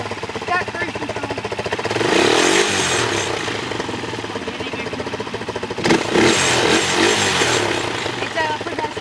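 A hard-starting dirt bike engine revving loudly up close, rasping and rising in two strong bursts with a rough idle between them.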